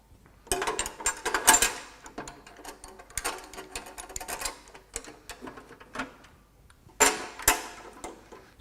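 The guard on a spindle moulder is set by hand, giving a string of irregular clunks, clicks and rattles of metal parts that are quite loud and close, with brief pauses between bursts.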